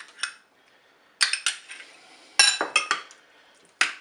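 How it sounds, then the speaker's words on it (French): Utensil clinking and scraping against a bowl while a potato and tuna salad with mayonnaise is mixed, sharp scattered clinks in short bursts with quiet gaps, close and alone. "Vous mélangez tout ça."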